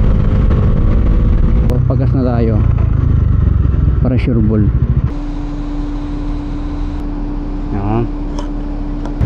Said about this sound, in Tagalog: Kawawa talaga tong motor ko sa akin. Laging sagad ang takbo.